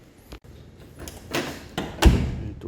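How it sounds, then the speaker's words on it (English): An exterior metal door swings shut and latches with a few soft taps followed by a firm metallic thud and a brief rattle, close and indoors. "Door latches and locks."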